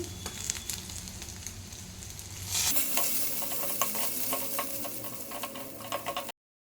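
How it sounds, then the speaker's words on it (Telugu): Ginger garlic paste dropping into hot oil for a dry prawn and tomato curry, a steady close sizzle that jumps louder partway through, with scraping stir strokes and no talk. "ఇందులోనే నేను అల్లం వెల్లుల్లి పేస్ట్ వేస్తున్నాను"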